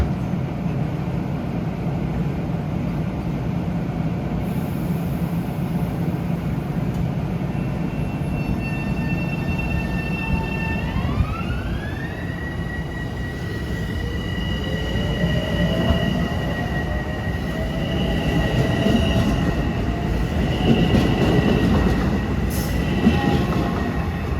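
A Long Island Rail Road train rolls through Forest Hills station during the morning rush, its wheels rumbling steadily while a long rising squeal and tonal whine echo off the station walls, no one speaking.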